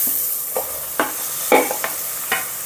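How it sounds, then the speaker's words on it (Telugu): Sliced onions and green chillies fry in masala over medium flame, a soft hiss broken by about five light stirring scrapes at irregular intervals, close by with no talk. "ఇప్పుడు స్టవ్ని మీడియం ఫ్లేమ్లో పెట్టుకొని మరీ బ్రౌన్ కలర్ కాకుండా రంగు మారేంత వరకు ఫ్రై చేసుకుందాం."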